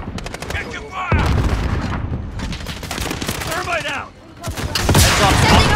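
Rapid gunfire and explosive booms in the shooter Call of Duty: Warzone, loud and near, with dense automatic bursts through most of the clip, a short lull, then heavy firing again. Game voices call out over the shooting.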